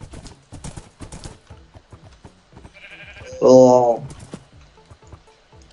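Horse hooves clopping in Minecraft while riding through a forest: a quick steady patter of light hollow hoof clicks, close and continuous, with a loud horse whinny midway and a short spoken exclamation.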